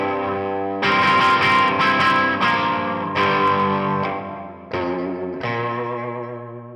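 An Edwards Les Paul E-LP-92CD electric guitar on its bridge pickup, without distortion, plays ringing chords with a bright, slightly gritty bite, struck about six times in a slow rhythm, each chord left to sustain and fade.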